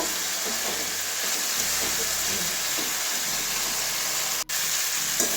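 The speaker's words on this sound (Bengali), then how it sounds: "টমেটোটা দিয়ে দিচ্ছি। একটুখানি নাড়িয়ে নেব।" A chopped medium tomato is stirred into spices frying in a pan, producing a continuous, even sizzle and hiss with faint stirring movement and one sharp click near the end.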